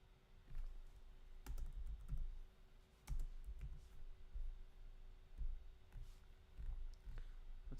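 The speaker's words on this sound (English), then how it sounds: "My keyboard don't work properly." Computer keyboard typing in bursts of clicks and clatter during a live wrestling-themed gaming stream, close and moderately quiet, with short pauses between flurries and no talk over it.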